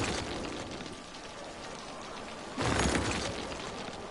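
Steady rain in the video game Cities: Skylines hisses continuously, swelling louder for a moment near the end before easing back to an even downpour.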